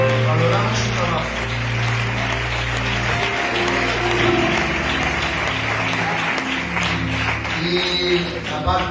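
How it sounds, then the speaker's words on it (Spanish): Audience applause at a church gathering with a visiting minister, steady and sustained throughout, mixed with a sustained musical tone underneath. "que merecen este aplauso de verdad"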